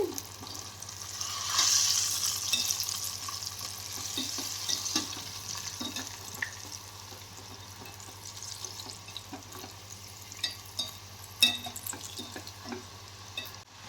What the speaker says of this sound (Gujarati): જુઓ ફ્રેન્ડ્સ, આપણા બટેટા ફ્રાય થઈ ગયા છે